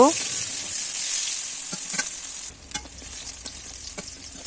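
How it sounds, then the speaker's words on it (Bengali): Eggplant pieces frying in oil in a wok, a loud continuous sizzle with scattered scraping stirs and soft clinks, the hiss dropping somewhat halfway through. "এবার কড়াইতে একটু তেল দিয়ে কেটে রাখা বেগুনের টুকরোগুলো দিয়ে দিচ্ছি বেগুনের টুকরোগুলো ভেজে তুলে নেব"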